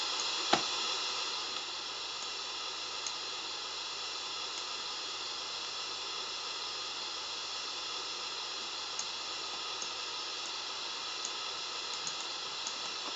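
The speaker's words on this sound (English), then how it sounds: "Paths can go through waterfalls." A steady, even rush of water from a waterfall in the video game RollerCoaster Tycoon 3, a continuous hiss that holds at a constant level throughout with no talking.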